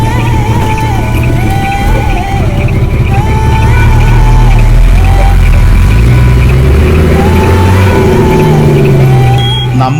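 SRT Travels bus driving towards Kollengode town, its engine droning steadily and loud throughout with road rumble and faint tonal whine, a continuous close interior sound.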